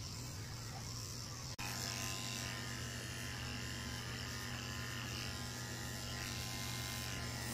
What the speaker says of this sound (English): I'm going to shave the inside of her ears with a tin blade also.